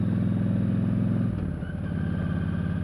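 A motorcycle on the road, its engine a steady low rumble and throb that shifts in pitch partway through as the rider changes speed, heard close and continuous without speech.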